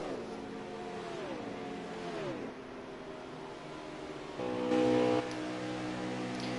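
A NASCAR stock car's engine in the Heat 5 racing game at Chicagoland Speedway, a steady droning whine that drops in pitch as it shifts, then surges briefly louder, with no talk.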